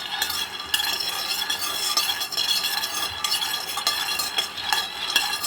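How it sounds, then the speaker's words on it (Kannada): Peanuts dry-roasting in a pan while being stirred, giving a steady close scraping and rattling with light clinks throughout, no voices. "ಚೆನ್ನಾಗಿ ಫ್ರೈ ಮಾಡಬೇಕು. ಒಂದೊಂದೇ ಫ್ರೈ ಮಾಡಿ ನಂತರ ನಾನು ಮಿಕ್ಸಿ ಮಾಡ್ಕೊಳ್ಳೋದು."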